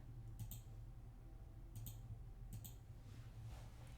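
Computer keyboard being typed on while C# code is retyped, a few faint, quick bursts of key clicks spread apart over low steady room hum.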